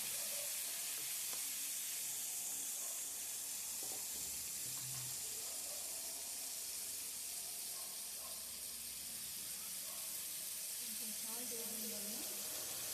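Chopped tomato pieces fry in oil with a pinch of salt. The steady, soft sizzle and bubbling continue under faint background noise, with a few small clinks.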